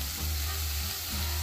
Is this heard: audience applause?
no